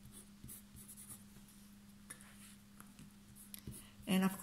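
A pen or pencil writes on a paper strip for a fraction-wall lesson, soft scratchy strokes close up and continuous, with a brief voice at the end.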